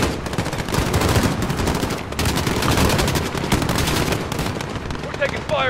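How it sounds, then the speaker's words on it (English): Rapid automatic gunfire from Call of Duty Modern Warfare gameplay, sustained bursts of loud machine-gun fire crackling almost continuously, with a brief lull and muffled voices mixed in underneath. "We're taking fire from the residents."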